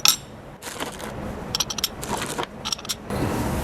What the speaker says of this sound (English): Put your carriage bolts in here.